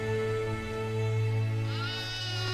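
A sheep bleats in one long, loud, wavering call that rises in pitch toward the end, heard close and alone.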